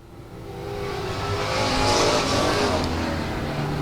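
Race cars roar around the South Texas Speedway oval, their engines swelling into a loud, sustained drone as the pack runs down the front straight toward turn one.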